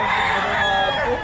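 Chickens and roosters crowd a poultry stall at a Bocaue market, clucking and crowing densely and continuously up close, with market voices faintly mixed in.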